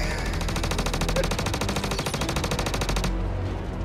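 Automatic gunfire in the Star Citizen video game, a loud rapid burst of evenly spaced shots that runs for about three seconds and then stops abruptly, leaving a faint tail.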